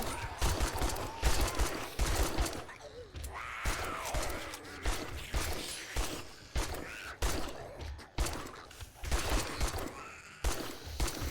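Gunfire in the survival game 7 Days To Die rings out as repeated sharp shots in irregular bursts throughout, with a faint voice briefly audible in the middle.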